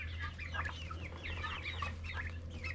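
Four-week-old homestead turkey poults call steadily in a continuous chorus of chirps and clucks, close by, over a constant low hum.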